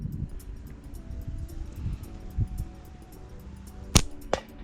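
Two sharp, loud shots ring out close by near the end, the second slightly softer, after a stretch of low ambient rumble. They come from a gun fired at a target 20 meters away.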